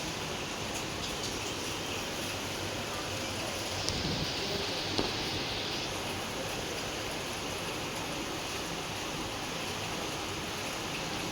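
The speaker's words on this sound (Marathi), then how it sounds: "पाऊस कंटिन्युअसली पडत आहे." Heavy, continuous rain pours down during a downpour that has flooded the streets, making a steady broad hiss with no talk and only a couple of faint brief knocks.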